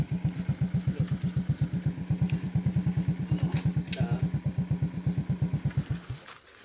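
A motorcycle engine chugs steadily at close range, a rapid rhythmic putter for about six seconds before cutting off abruptly.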